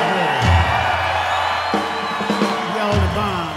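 A live rock concert crowd at Darien Lakes, NY cheers and whoops in a broad wash beneath lingering sustained instrument tones, with someone talking over it.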